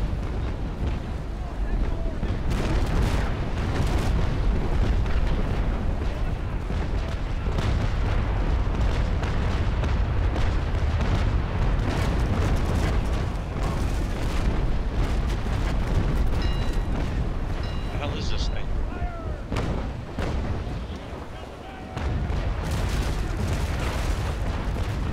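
Naval Action naval video game battle: a dense, continuous roar of cannon fire and explosions with booming impacts, loud throughout, briefly dipping near the end before surging again.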